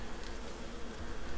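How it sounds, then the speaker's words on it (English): Bees buzz around trees in the survival game ICARUS, a soft, continuous droning hum with slight wavering, faint and close, with no voices over it. "bees are back"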